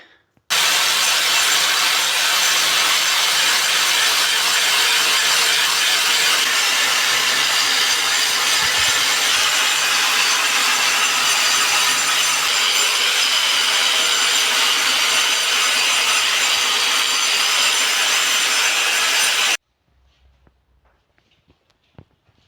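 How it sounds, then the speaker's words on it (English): A grinder cutting away a tile during a home renovation makes a harsh, loud, continuous abrasive whine for nearly twenty seconds, then stops abruptly, leaving near silence. "I just need to grind this tile away."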